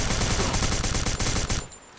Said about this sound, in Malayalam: ഫ്രണ്ടിൽ വന്നിട്ട് വെടി